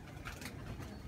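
Pigeons in a yard giving soft low cooing, faint and close, over a hiss of background noise in a brief moment.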